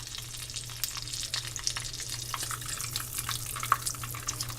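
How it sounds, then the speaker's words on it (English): Flour tortilla taquitos frying in hot oil, a steady crackling sizzle with scattered sharper pops over a low constant hum, no talking. "you could cut these into like thirds, these flour ones, and fry them up and do the taquitos"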